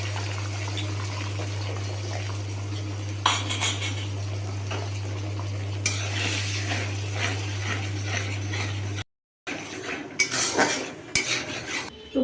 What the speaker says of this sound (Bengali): তো এই তেলে আমি ডিমের ঝুড়োটা ভেজে নেব